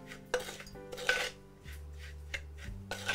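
Ground chili and spice powder being mixed with turmeric for Jaffna chili powder, heard as scraping, rasping strokes and a few light clinks of a utensil against a bowl, fairly close with no talk.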